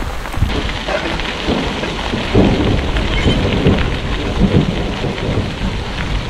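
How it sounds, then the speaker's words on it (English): Heavy rain and big hailstones pelt down in a mountain thunderstorm on Fleecer Ridge in Montana, a dense loud patter with sharp scattered impacts and low rumbling thunder, heard without any talking. "It's hailing really bad right now."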